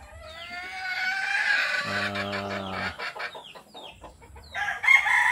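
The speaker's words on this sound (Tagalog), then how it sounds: "yung mga manok natin dito." Chickens cluck and a rooster crows in a breeding pen on a Philippine poultry farm, with overlapping calls close by and a second crow near the end.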